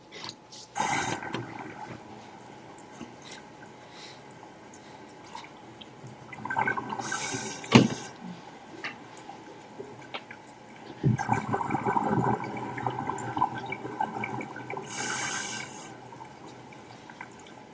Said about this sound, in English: You hear the ticking noise just a little bit? That's kind of how the ocean sounds. That's the crabs and the shrimp